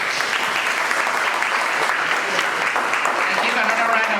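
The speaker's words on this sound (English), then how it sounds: "give another round of applause to the candidates" Loud, continuous applause from an audience at a chamber of commerce candidate event, many hands clapping steadily and close, with voices talking and calling out underneath.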